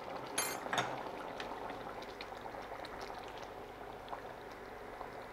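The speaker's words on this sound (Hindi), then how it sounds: "अब गट्टा ने उबलता ना 2 मिनट हो गया है।" Lauki gatte curry simmering in a pan, a steady soft bubbling and sizzling that stays even throughout, with a brief louder clatter near the start.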